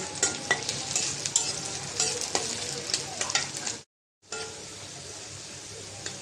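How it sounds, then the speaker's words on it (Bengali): Chopped onion and garlic frying in oil in a pan for a stir-fried snake gourd dish, a steady close sizzle with frequent stirring scrapes, cut by a brief silent gap before the frying resumes. "পেঁয়াজ কুচি একটু রসুন কুচিও দিয়ে দিলাম পেঁয়াজটা ভেজে নেব"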